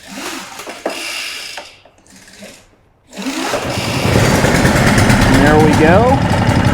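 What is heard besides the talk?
Stihl BR 800 backpack blower engine firing then dying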